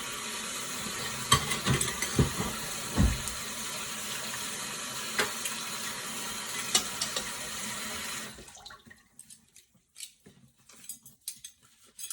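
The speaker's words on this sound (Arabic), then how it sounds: "انا غادي نغسل عاوتاني يدي" Hands washed under a running kitchen tap while preparing fried chicken strips and fries, a steady broadband water rush with small clacks, lasting about eight seconds before the flow cuts off, leaving scattered faint knocks and drips.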